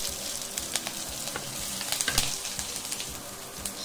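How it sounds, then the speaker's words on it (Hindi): Steady crackling sizzle of ginger, garlic and finely chopped green chilies frying on low heat in a hot pan, with scattered pops and a brief stirring clatter partway through. "उनको थोड़ा भून लेंगे हम हल्के आंच में।"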